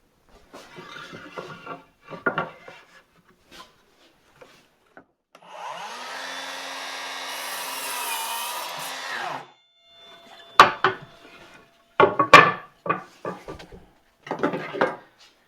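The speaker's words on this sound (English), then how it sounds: "I want to show you kind of the main advantage of a chop saw, and that's accuracy and smoothness of cut. So let me just do a quick cut here for you." A chop saw slices through a piece of wood in a single sustained cut, loud and close for about four seconds, its motor whining, with knocks and handling clatter around it.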